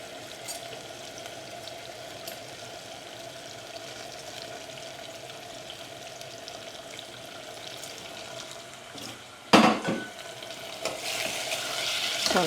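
Mung beans tipped into a hot pot over a high flame and stirred, making a continuous sizzle that swells into a louder burst of clattering and frying near the end.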